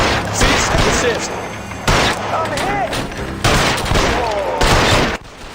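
Gunfire rings out in the L.A. Noire video game on the Switch, with loud, sharp shots in a ragged series of bursts over busy game sound.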